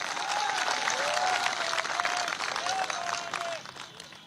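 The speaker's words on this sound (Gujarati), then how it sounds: "મીડિયા માટે પણ એક તાળી થઈ જાય." A crowd at a Kshatriya community gathering in Mehsana, Gujarat applauds for the media, with dense, steady clapping for about three and a half seconds before it begins to thin out.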